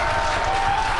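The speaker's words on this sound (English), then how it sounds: "there you can see and heard it by the incredible excitement within the crowd behind me" Crowd at a SpaceX rocket launch applauding and cheering, a steady dense roar of many people held at constant loudness from start to finish.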